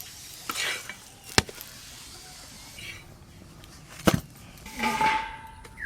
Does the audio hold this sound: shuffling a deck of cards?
no